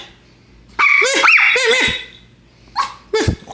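A dog named Rocket gives a loud, close run of whiny yelping barks indoors, then two shorter yips after a brief pause.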